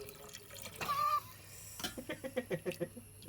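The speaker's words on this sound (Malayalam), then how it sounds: "ഇനി കുറച്ച് വെള്ളം ഒഴിക്കാം" Water pours into a clay pot for fish curry, ending in a quick series of rhythmic, rising glugs; a faint voice is briefly audible near the start.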